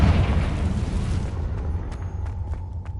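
A Confringo spell blast in Hogwarts Legacy lands as a deep, loud boom at the start and rumbles away into a fading tail with a few small crackles, with no voices over it.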